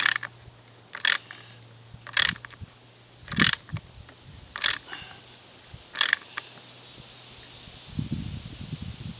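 A torque wrench tightens a module alignment T-nut, giving six sharp, evenly spaced ratcheting clicks close by over a quiet background, followed by a faint rustle at the end.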